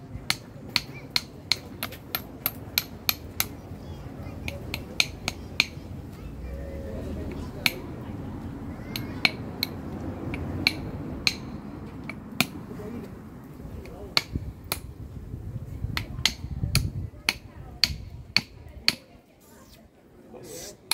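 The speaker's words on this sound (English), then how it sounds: "let's crack off a few of those unsightly chunks" Sharp, irregular cracks of flint being knapped, stone struck against stone, dozens of hard clicks in quick bursts and pauses, close by with a low murmur beneath.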